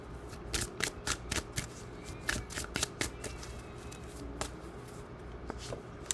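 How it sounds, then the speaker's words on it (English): Tarot cards are shuffled by hand in a run of crisp riffling bursts, close and fairly quiet, with short pauses between each pass and no talking. "So we're going to pull 3 more cards and then we'll get into some more messages."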